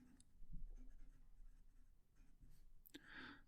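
A Narwhal Key West fountain pen with a broad nib, inked with Diamine sheening ink, writes on a notepad: quiet, close scratchy strokes in short bursts, ending in a sharper scrape.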